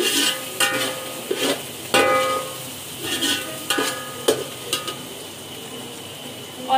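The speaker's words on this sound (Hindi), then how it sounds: "अब हम इसे एक मिनट तक फ्राई करेंगे।" Green chilies fry in hot oil in a pan for a beef pulao, giving a continuous close sizzle broken by repeated stirring knocks and scrapes of a spoon against the pan.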